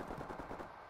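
A sniper rifle in the video game Call of Duty fires in gameplay, with dense, quiet gunfire rumbling through a short burst.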